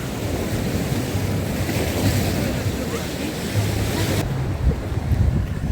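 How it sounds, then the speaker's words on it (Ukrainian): Steady roar of Black Sea surf with waves washing in on the Odesa shore, mixed with gusty wind noise against the microphone; no voices, fairly loud and continuous. "Давай так, щоб ми не потрапили під хвилю"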